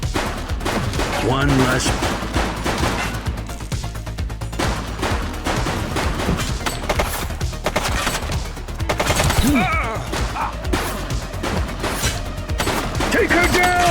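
A shooting suspect fires in the police game The Precinct, with repeated bursts of gunshots and return fire running throughout, loud and close. Voices speak briefly over the shots.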